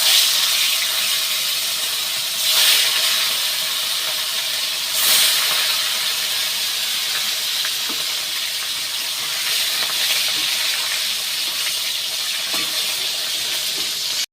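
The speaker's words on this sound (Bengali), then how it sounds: "এইবার পরের মাছগুলো ভেজে নেব।" Fish frying in hot oil while making a pointed gourd fish dish, a loud, continuous close hissing sizzle with a few brief swells of stronger spattering, no voices.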